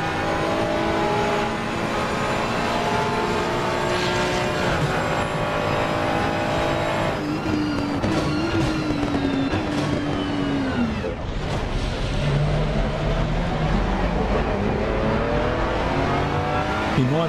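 Race car engines in a racing video game scream steadily at high revs for the whole stretch, with gear shifts, pitch rising and falling as cars close in and overtake, and brief tire squeal, no talking.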